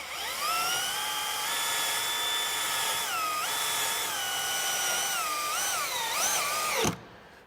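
A power drill whines steadily at high speed, driving self-tapping screws, its pitch dipping briefly several times as it bites into material, then cuts off abruptly.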